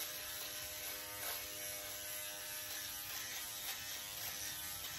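A Philips Norelco OneBlade 360 electric razor buzzes steadily and close up while shaving stubble, its hum continuous for several seconds with faint rasping as the blade moves over skin.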